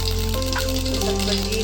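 Mustard seeds fry in a spoonful of hot oil, giving a loud, continuous close crackle with a low hum underneath.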